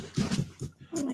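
A male dog whimpers in a series of soft, strained whines, close by, with faint background noise underneath.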